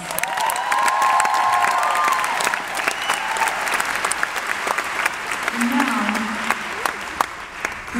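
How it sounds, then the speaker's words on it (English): A concert audience claps and cheers at a show at the Theatre at Ace Hotel in Los Angeles, loud sustained applause with whoops and whistles, a voice briefly heard over it. "I want to give them a shout out and a round of applause."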